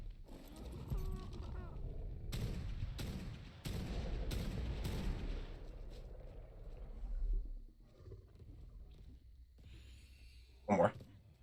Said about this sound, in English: I can just shoot him in the head a couple times just to test it out